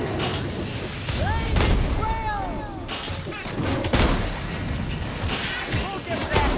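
Gunfire aimed at a rat ogre flamer in Warhammer Vermintide 2, several loud shots and crashes in a chaotic burst mixed with mechanical clanks and whooshing fire, with voices talking over the action.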